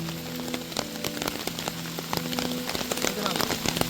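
Rain pours at a well-known twin-waterfall spot in Wanagiri, a dense, steady patter that stays close and loud, broken by sharp individual drop hits.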